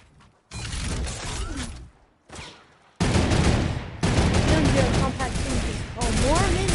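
Turret gunfire in a popup cup duo video game match, loud bursts of rapid shooting with brief gaps between them and mechanical clatter mixed in.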